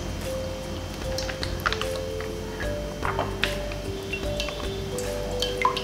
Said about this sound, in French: Après, on va tremper dans de l'eau froide, juste quelques minutes.